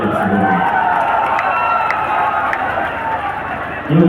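A large crowd of devotees at a Bhojpuri music event roars and claps loudly and steadily throughout, a dense wash of noise with voices mixed in.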